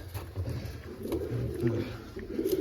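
Pigeons coo repeatedly nearby in low, throaty rolling calls, with soft rustling and faint voices in the background.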